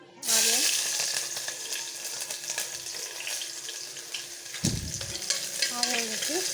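Hot oil crackles and sizzles in a pan (kadai) while chicken curry is being cooked, a steady close frying hiss with stirring scrapes and a brief break midway before the sizzle resumes.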